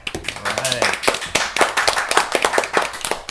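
Children clapping for themselves at the end of a podcast panel; a brisk burst of hand claps, fairly close and uneven, with a brief voice near the start.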